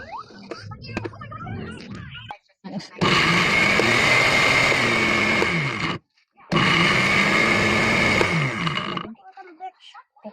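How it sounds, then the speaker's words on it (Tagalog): A loud blender whirs in two long bursts separated by a short pause, with brief talking and clatter before and after. "ngayon ako mag-blender"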